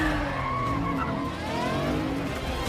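Car skidding during a chase scene in the Black Widow film, with tires squealing over a loud, continuous engine roar that holds steady across the whole stretch.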